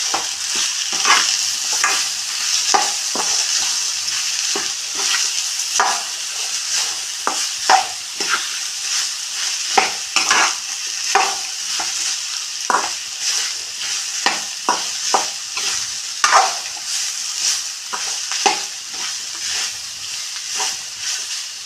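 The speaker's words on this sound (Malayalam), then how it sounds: "നമ്മൾ വേവിച്ച് വെച്ച പപ്പക്കായ ഞാൻ ഇതിലിടണു. നന്നായിട്ട് മിക്സ് ആക്കാം." Cooked papaya being stirred into a curry in a pan, with a steady bright sizzle under repeated sharp scrapes and clinks of a spoon against the pan, close and fairly loud, with no talking.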